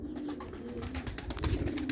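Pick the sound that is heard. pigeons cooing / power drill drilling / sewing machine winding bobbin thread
pigeons cooing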